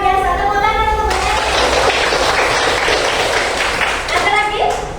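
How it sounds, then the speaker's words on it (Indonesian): Children in a classroom break into loud, sustained applause, a dense crowd of clapping hands that runs for several seconds, with a teacher's voice briefly audible before and after. "Luar biasa, tepuk tangan semuanya."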